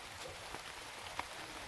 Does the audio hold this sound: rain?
yes